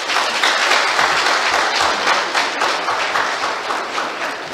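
Congress delegates applaud to adopt the statutes by acclamation, producing a dense, steady wash of clapping that stays loud and continuous throughout.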